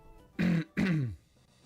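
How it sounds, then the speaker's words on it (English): Two short, close throat clearings from a man with mucus in his throat, one rough guttural rasp right after the other, in an otherwise quiet room. "sorry that I clear my throat now and then"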